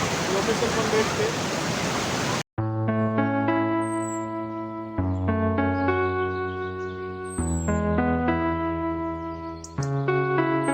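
Water roars steadily over a river weir near Palasdari waterfall in the monsoon, loud and close for a couple of seconds before it cuts off abruptly and music takes over.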